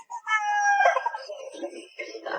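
Chickens on a farm where hens are being taken, clucking and calling loudly up close in a short burst, with harmonic crowing-like notes at the start and voices mixed in briefly.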